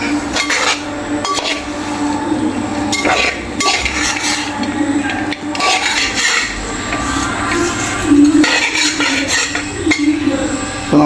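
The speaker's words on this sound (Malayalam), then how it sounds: "നമുക്കിതൊന്ന് ഇളക്കി ചേർക്കാം." Fish pickle made from two kilos of fish being stirred in a pan, with loud, repeated metal scraping and clanking of a spoon against the pan over a faint sizzle, and occasional muffled talk.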